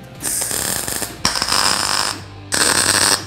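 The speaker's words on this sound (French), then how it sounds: "je vais commencer au poste à souder à les pointer de partout, en faisant des petits points un petit peu de partout" A welding machine tack-welds small spot welds in three loud, close bursts of harsh buzzing crackle, each lasting about a second, separated by brief breaks.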